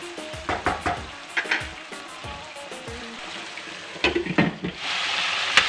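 Tomatoes and masala sizzle in hot oil in a pan for a mixed vegetable sabzi, with a steady close fry punctuated by clattering stirs and scrapes of a spoon.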